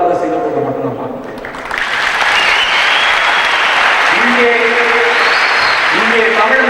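Loud, sustained applause from a large audience at a gathering honouring Tamils in Singapore, swelling after a quieter opening and continuing steadily, with a voice speaking over it.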